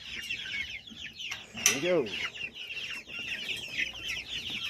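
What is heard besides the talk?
hens clucking as they are let out of the coop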